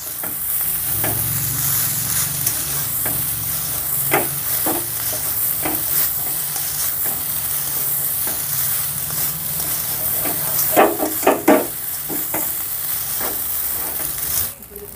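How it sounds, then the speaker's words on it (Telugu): Rice stir-fried and tossed quickly in a pan over a high flame, a steady sizzle and hiss with repeated sharp scraping and clattering strokes of the spatula, louder bursts near the end, no talking. "ఇప్పుడు స్టవ్ని హై ఫ్లేమ్లో పెట్టుకొని స్పీడ్గా టాస్ చేసుకుందాం."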